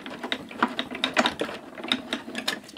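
Die-cutting machine running a detailed metal die back through its rollers, a quick series of dry clicking and ratcheting ticks in an uneven rhythm, close up and moderately loud, no talk.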